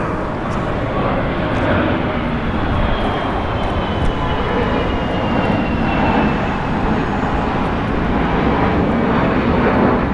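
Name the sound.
Sun Country Airlines Boeing 737-8 departing LAX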